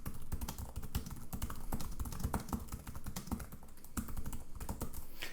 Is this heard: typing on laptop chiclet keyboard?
yes